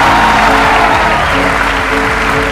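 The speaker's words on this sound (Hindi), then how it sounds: "बजाओ ताली।" Loud, sustained applause from an audience at a talk event, a dense continuous roar of clapping filling the whole moment with a faint murmur of voices underneath.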